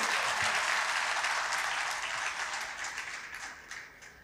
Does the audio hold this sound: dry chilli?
no